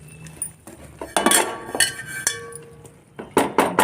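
A metal lid gets set onto a cooking pot on a gas stove while fish heads simmer with chana dal, giving several sharp clinks and rattles of metal on metal spread unevenly across the moment, with no talking.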